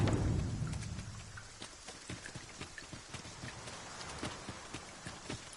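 Rain falls in a fantasy video game, a steady soft patter that starts under a low rumble, with rhythmic clip-clopping horse hooves on top and no voices.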